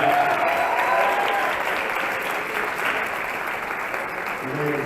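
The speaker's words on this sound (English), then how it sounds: "how about a nice round of applause for one of my heroes" A large audience at an awards gala claps in a sustained, even round of applause, dense and steady throughout with a faint murmur of crowd underneath.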